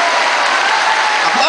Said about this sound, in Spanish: ¡Aplausos para ellos! ¡Para ellos!